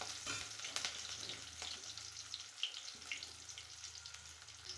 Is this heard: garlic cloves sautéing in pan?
yes